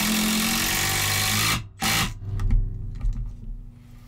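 A Makita TD173 impact driver sinks a 3.5-inch SPAX screw: a loud continuous whir cuts off suddenly, then a brief burst, followed by quieter irregular knocks and rattles as the screw seats.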